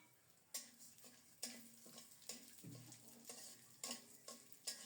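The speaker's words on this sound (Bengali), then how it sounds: "এটা সরিষার তেলে একটু লালচে করে ভেজে নেব।" Pulao rice grains frying in mustard oil over medium heat give a soft sizzle under a series of rhythmic scraping stir strokes, about one each second, close and fairly quiet, with no talk.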